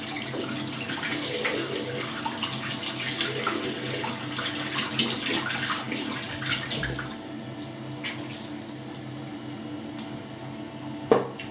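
A Semogue shaving brush is rinsed under a running tap, the water hissing and splashing steadily for about seven seconds before quieting, with a sharp knock at the very end.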